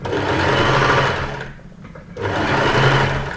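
A sewing machine stitches a shirt yoke in two loud close bursts of fast whirring, with a brief pause in between and no talking.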